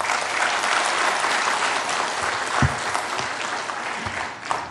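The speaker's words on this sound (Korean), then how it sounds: "박수 한번 보내주세요" A church congregation claps after a Korean traditional-style hymn performance, a full, lively burst of applause that stays strong for several seconds before thinning slightly at the end.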